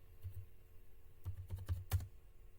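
Computer keyboard keys clatter in several quick bursts and isolated taps as someone writes Python code, with short pauses between clusters and no talking.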